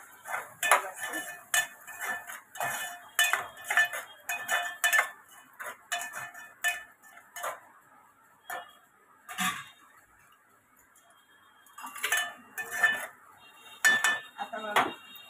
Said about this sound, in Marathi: आता हे सर्व आपण आहे ना मिक्स करूया व्यवस्थित.